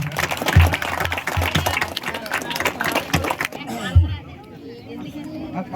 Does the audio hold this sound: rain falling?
no